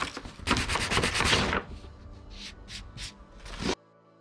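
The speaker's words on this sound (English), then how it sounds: "we're going to clamp the neoprene up and do some light sanding." Light sanding of clamped neoprene on a boat deck: a dense burst of close rubbing strokes, then quieter, spaced scrapes before stopping abruptly.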